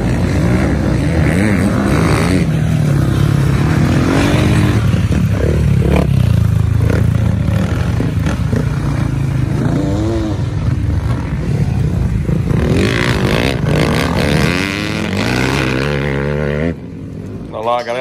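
Motorcycle engines drone and rev continuously with clattering and scraping as the bikes slide on a muddy track, while a voice talks over the mechanical noise.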